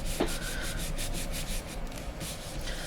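Paper card rubbed firmly over foam tape during fairy door card assembly, a steady close scratchy rubbing that continues throughout without pause.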